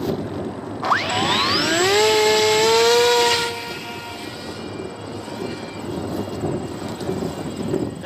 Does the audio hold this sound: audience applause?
no